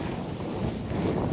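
Hooves of a ridden horse clip-clop steadily at close range, a continuous quick rhythm of dull thuds over ground noise with no talking.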